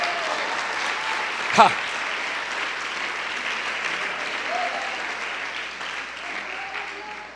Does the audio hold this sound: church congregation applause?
yes